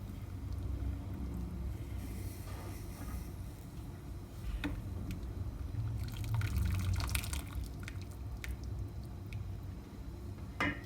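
Water drips and trickles steadily from boiled cabbage leaves being drained, with occasional louder splashes and clinks, fairly close by and with no talking.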